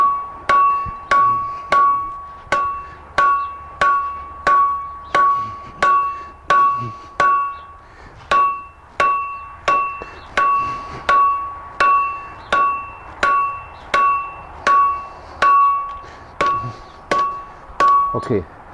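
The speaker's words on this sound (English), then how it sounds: "I will continue forging out the tang." Hammer blows forge the hot iron tang of a pattern-welded knife, about two dozen sharp ringing strikes at an even, brisk rhythm, loud and close with no other sound between them.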